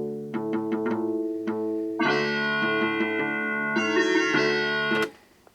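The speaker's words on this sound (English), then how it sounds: "the sample sounds from the Sound Blaster are actually working" Sound Blaster sound card in an 8088 XT PC plays synthesized sample sounds: a run of short plucky electronic tones, then sustained buzzy chords changing every second or so, loud and clean, ending abruptly.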